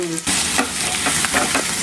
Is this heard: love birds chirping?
no